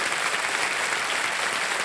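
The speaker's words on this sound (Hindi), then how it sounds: "ताली बज जाए, ताली बज जाए आपके लिए" A studio audience at the KBC Season 15 quiz show applauds steadily, a dense, even wash of many hands clapping at once, close and full throughout with no voices.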